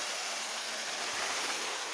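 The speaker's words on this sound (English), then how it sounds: "This is our waterfall." Water pours steadily from a small garden waterfall among shaded trees and cacti, a soft, even hiss with no voices.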